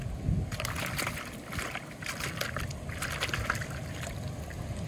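Water sloshes and trickles continuously as a green toy truck is washed, with splashing and dribbling close by and no speech.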